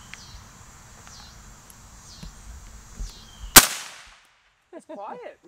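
Single suppressed shot from a Kel-Tec RFB Hunter bullpup rifle outdoors, one sharp, loud crack over quiet background, followed by silence and then distant bird chirps.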